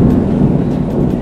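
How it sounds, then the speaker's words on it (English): Thunder from an approaching rainstorm rolls as a loud, continuous low rumble throughout the brief moment, with wind-like noise on top. "The rain is coming, bro."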